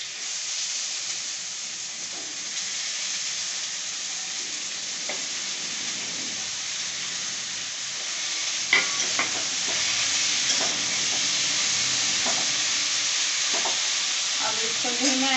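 Cauliflower and potatoes for bhujia fry in a pan over low heat, giving a steady close sizzle and hiss broken by occasional scraping knocks as they are stirred, with no voices.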